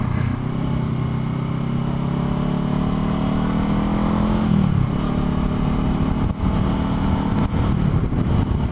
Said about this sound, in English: But with this exhaust, it's not obnoxiously loud, but people definitely hear you